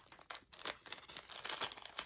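Close, brittle crinkling and ripping of paper in short bursts, as a small paper seed packet is torn open by hand.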